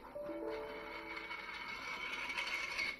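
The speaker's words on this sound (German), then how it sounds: "Das ist nur mein Stuhl, der auseinanderfällt." A worn desk chair that is falling apart creaks and grinds faintly in a continuous rough, scraping rattle, with a few brief squeaks at the start.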